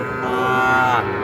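A heifer calf or other cattle at an Ambari livestock market moos in one loud, sustained, close call with a slight rise near the end, backed by low market bustle.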